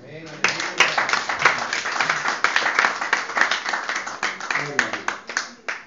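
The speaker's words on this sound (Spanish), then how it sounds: "Den un aplauso al Señor." A church congregation claps in loud, sharp, rhythmic bursts, many hands together, while a voice speaks over the clapping.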